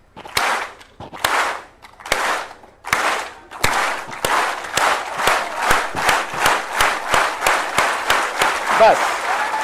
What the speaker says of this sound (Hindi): एक बार हमारे साथ मिल करके ताली बजाइए